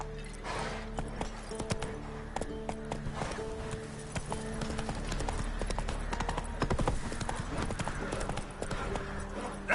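Roach the horse gallops in The Witcher 3, rapid steady hoofbeats pounding throughout over a low background hum, with occasional snorts and brief vocal grunts.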